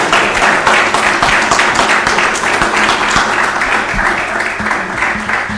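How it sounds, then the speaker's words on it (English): A seated audience gives a loud, sustained round of applause, many hands clapping steadily and close with no break. "if I would kindly invite you to join me in congratulating by way of round of applause"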